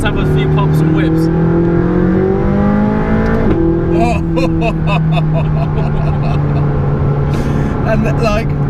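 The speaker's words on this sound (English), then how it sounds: "As it gets warmer, it does have a few pops and whips." Stock McLaren 675LT exhaust revving with steady engine drone and a rising pitch sweep, followed by sharp crackling pops and bursts, heard close with a voice talking over it throughout.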